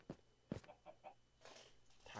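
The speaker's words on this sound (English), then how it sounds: "there's a chicken." A Minecraft chicken gives a few short clucks close by, scattered among brief speech-like bursts and light background noise.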